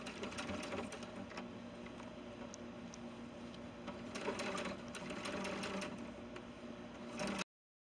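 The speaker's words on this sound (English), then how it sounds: "I'm going to sew a 1/4 inch seam, and then I'm going to run it through the serger" A sewing machine stitches a quarter-inch seam on small doll pants, a steady close mechanical whir with rapid needle ticking that runs continuously before cutting off abruptly near the end.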